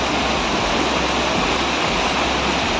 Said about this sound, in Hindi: ये देखिए कितना तेज पानी है।